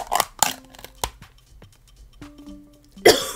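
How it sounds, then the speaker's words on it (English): A person coughs harshly after inhaling a mouthful of CTRL Energy drink powder: two sharp bursts close together, a smaller cough a moment later, then a loud rough cough near the end, all close and with no talking. "Don't take me coughing as a bad sign."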